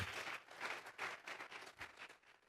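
Congregation in a church gives a round of applause, a dense, steady patter of many hands clapping at a fair distance, rising and falling in soft waves throughout.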